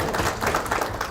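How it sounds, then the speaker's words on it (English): Audience clapping at the launch event for a continuous glucose monitor, a brief burst of steady, fairly loud applause from a room full of people. "Please clap properly."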